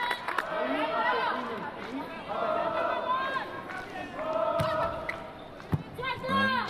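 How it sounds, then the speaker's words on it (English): Dutch home crowd at a volleyball match roaring and cheering in sustained waves, with whistles and shouts over a constant arena din and a commentator talking over it. "the Dutch crowd being really, really supportive"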